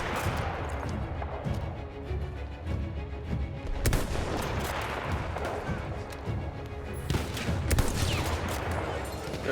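Battlefield 1 gunfire during headshots: dense, continuous rifle shots and explosions crackle and boom over a noisy war-game backdrop, with no pauses and no talking.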